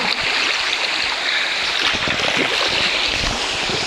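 A river flows along a travel route, a steady broadband rush of moving water mixed with some wind buffeting on the microphone, close and constant throughout.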